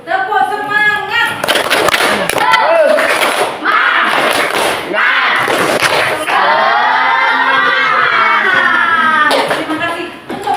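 Schoolchildren in a classroom doing a rhythmic spirit clap, loud patterned bursts of clapping and thumps mixed with their shouted, sing-song chanting, pausing briefly before starting again.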